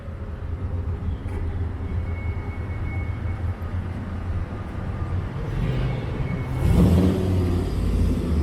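A Corvette sports car drives by on a city street in Toronto, a low rumbling engine under steady traffic noise that swells louder as it passes close near the end.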